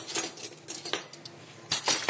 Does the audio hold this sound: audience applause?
no